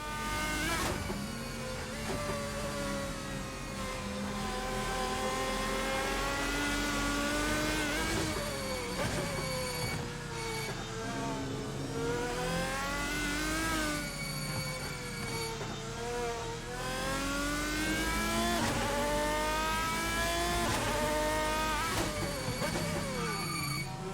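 Race cars in the Assetto Corsa racing game at Interlagos scream past in close company, engines rising and falling through gear changes in loud, overlapping whines for the whole stretch.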